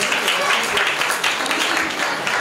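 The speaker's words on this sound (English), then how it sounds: "Please give a big round of applause for Mango class." Parents and guests at a school celebration applaud the Mango class, a crowd's dense clapping heard up close and fairly loud, with talking mixed in underneath.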